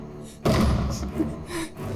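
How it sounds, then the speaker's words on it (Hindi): A single heavy thud hits a door, followed by lingering low resonance and faint rustling. "दरवाजा खटखटाना बंद करो।"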